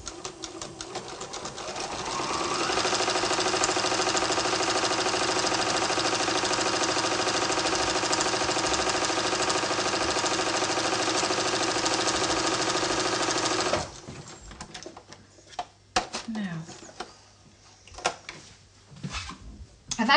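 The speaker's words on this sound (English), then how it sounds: "So I'm just going to take that to the sewing machine, and just off we go." A sewing machine stitches a straight seam through fabric for a fabric sweet cone, its steady whirring motor running loud and continuous for about eleven seconds before stopping, followed by scattered handling clicks.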